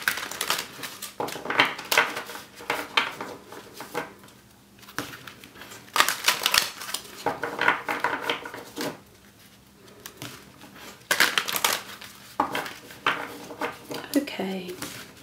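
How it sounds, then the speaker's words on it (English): Tarot cards shuffled by hand in repeated crisp, papery bursts of riffling and flicking, separated by brief pauses, with a voice talking softly over parts of it. "Just another little bit of shuffling, infusing your energies into the drawer"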